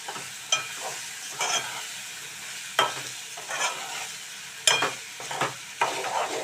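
Ginger-garlic paste being stirred into tomatoes frying in a pan, a steady sizzle broken by sharp spoon scrapes and clinks at irregular intervals, close and moderately loud with no talk.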